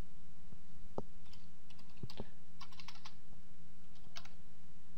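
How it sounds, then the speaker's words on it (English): Short bursts of keystrokes on a computer keyboard while a login field is filled in during a web coding session, scattered light clicks over a steady low hum, no voices. "I type admin."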